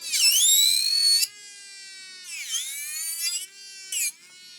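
A Kiara Sky nail drill spins at 25,000 RPM with a loud, high whine that sweeps down and back up in pitch. It then settles into a steadier hum, broken by a short louder burst near the end, with no talking.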